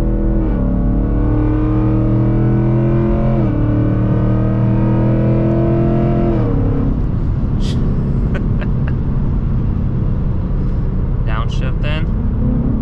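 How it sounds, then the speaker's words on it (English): A 2024 Mustang GT with headers pulls hard through paddle shifts: a loud engine climbs in pitch, drops at each quick upshift, then settles into a rough burble with crackling pops. "We're gonna get on it with the paddle shifters. It tries to pop too. I feel like with the headers it's popping a little bit more."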